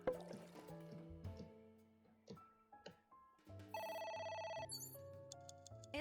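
A telephone ringing in the video game AI: The Somnium Files, a bright electronic ringtone that plays a sustained trill after some softer tonal game music, clear and prominent.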